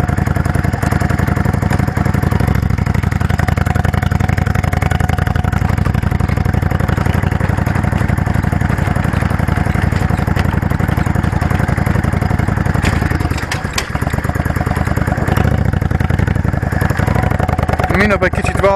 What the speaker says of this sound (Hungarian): Kicsit a szelepek kecegnek